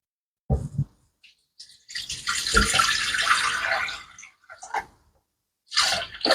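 Water poured into a cooking machine to make soup in a Turkish kitchen, a close, loud hissing splash that runs for about two seconds, then shorter spurts with pauses between them.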